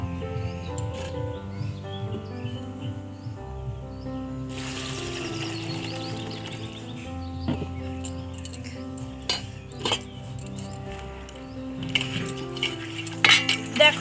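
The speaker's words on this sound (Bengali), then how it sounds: "এভাবে চটকে চটকে কুলগুলো কিন্তু খুব পরিষ্কার করে ধুয়ে নেব।" Jujube berries being washed by hand in water in a metal bowl for pickle, with soft sloshing and rubbing plus clinks against the bowl, getting busier near the end.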